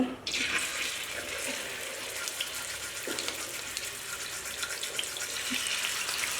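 Salt-marinated chicken pieces go into hot oil and fry with a steady, soft sizzle and hiss, faint and continuous with no voices.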